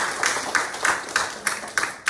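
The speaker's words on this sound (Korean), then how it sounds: "박수 쳐야 돼, 이 대목에." Clapping at a business opportunity presentation for USANA, heard as a string of sharp, evenly spaced claps about every third of a second, fairly faint and with no talk over them.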